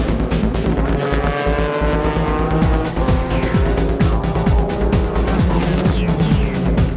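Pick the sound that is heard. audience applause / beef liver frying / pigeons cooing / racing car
racing car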